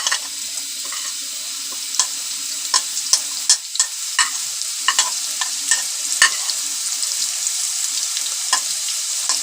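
Onions fry in half a cup of hot oil for aloo gobhi matar sabzi. A bright, continuous sizzle is broken by scattered stirring clicks and scrapes close by.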